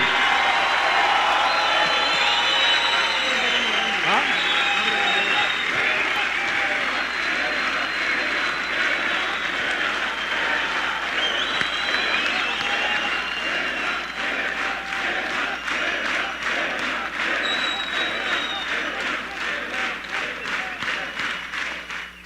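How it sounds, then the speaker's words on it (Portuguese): A crowd applauds after a political speech in Curitiba, with sustained clapping mixed with cheers and shouts over the whole stretch, loud and dense, thinning slightly toward the end. "A salva de palmas que eu peço não é para mim, para o meu discurso, para ninguém. É para vocês"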